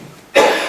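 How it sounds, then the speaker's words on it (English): A single sharp, loud cough at a village council meeting, bursting suddenly after a quiet room and trailing off over a fraction of a second, close to the microphone. "You guys are gonna get tired of hearing me cough"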